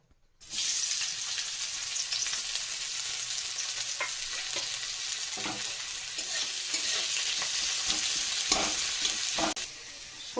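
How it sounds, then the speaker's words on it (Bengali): Onion sizzling and frying steadily in hot oil in a wok, making a loud continuous crackle with occasional clinks of stirring, without any talk, while a crab curry with mustard paste is being cooked. "পেঁয়াজটা লাল করে ভাজা হয়ে গেছে"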